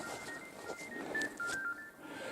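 A mobile phone rings with a steady electronic tone pattern, stepping between pitches over faint background noise, no voices.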